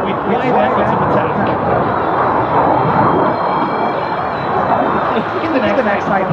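A Eurofighter Typhoon jet at the Radom 2013 air show gives off a loud, continuous broadband roar, while an announcer's voice carries over it throughout.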